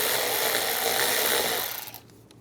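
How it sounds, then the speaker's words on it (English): An 8mm socket ratchet loosens a worm-gear clamp on the airbox snorkel of a 2011-2018 RAM 1500 with the 3.6L V6. Steady close mechanical grinding fills most of the moment, then drops off sharply near the end. "Using a 8mm socket, we're going to loosen up this worm clamp."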